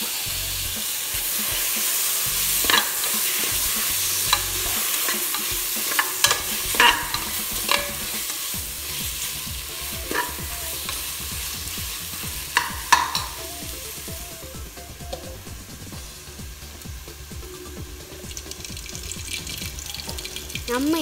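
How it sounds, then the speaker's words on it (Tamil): Tomatoes stir and sizzle in a hot pan, with a utensil scraping and clinking now and then and running water in the background. "தக்காளி இட்டு வதக்கவும்."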